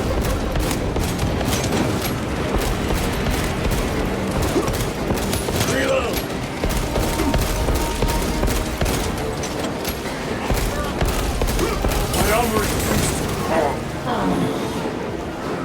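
Dense, continuous gunfire from the Space Marine 2 video game, with rapid bursts and booming impacts that run without a break. It is loud and close, with frantic talk over the top.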